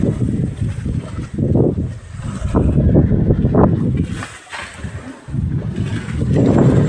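Big waves and gusting wind batter a small fishing boat on the open sea under an overcast sky, a loud, continuous rumbling wash of water and wind buffeting close by with surging swells.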